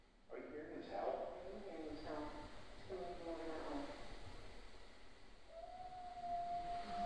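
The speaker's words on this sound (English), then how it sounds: "Are you hearing this howl?" A faint, drawn-out howl rises and falls in the distance, repeating a few times over a low background hiss.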